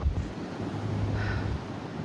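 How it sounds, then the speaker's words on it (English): Strong wind roars steadily against the microphone, a continuous low buffeting rumble with no voices. "Very, very windy."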